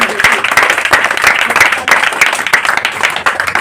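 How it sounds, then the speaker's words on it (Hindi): An audience at a Teacher's Day gathering applauds loudly and up close, a dense burst of clapping with sharp individual claps standing out and faint crowd murmur underneath. "आप लोग भी एक जोरदार ताली बजा के उन लोगों का भी धन्यवाद करें"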